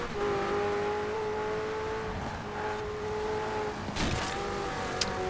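McLaren Speedtail engine in the racing video game Forza Horizon 4. A steady, fairly quiet high-revving hum holds its pitch with slight shifts and a brief swell near the end, with no talk over it.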